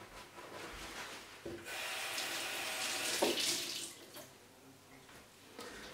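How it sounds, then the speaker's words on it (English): Kitchen tap water running onto a kitchen towel as it is rinsed, a steady near splashing rush with rubbing and wringing that lasts a few seconds before easing off. "So you get that kitchen towel nice and moist, rinse it out"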